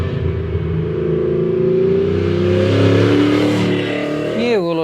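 A GM LS1 V8 car engine rumbles loudly and steadily, building in pitch as it revs up close by, then drops off sharply at the end.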